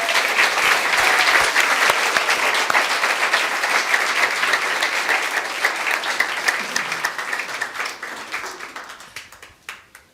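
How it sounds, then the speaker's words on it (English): Sustained applause from a church congregation during a Sunday morning service, a dense wash of many hands clapping that gradually thins and fades out toward the end. "Please give them a round of applause."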